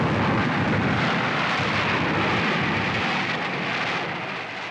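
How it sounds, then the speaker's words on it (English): A military airstrike during the Vietnam War: a dense, rumbling roar of aircraft and blasts, loud and continuous, slowly tapering toward the end, with no voices. "An airstrike is called in."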